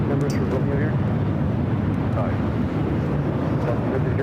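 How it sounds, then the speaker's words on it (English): An Air Tahiti Nui Boeing 787-9 Dreamliner jet roars steadily and loudly at LAX, a broad continuous rumble with wind buffeting, while a person talks over it. "That was Air Tahiti Nui Flight 8 heading to Paris in that 787-9 Dreamliner."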